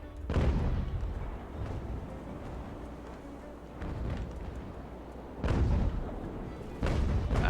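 Cannons on sailing warships fire raking broadsides in the naval battle game Ultimate Admiral Age of Sail, with several deep booming shots spread over the stretch against a rumbling backdrop of battle, with no talking.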